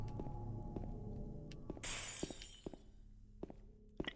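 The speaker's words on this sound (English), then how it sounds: "That glass shattering?" Glass shatters in a single loud burst partway through, a bright crash of breaking panes that scatters into smaller fragments, set over a low ambient drone and scattered thuds in the Silent Hill 2 survival horror game.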